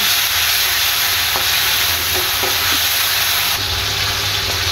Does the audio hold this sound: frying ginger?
yes